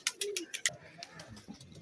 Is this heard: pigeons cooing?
yes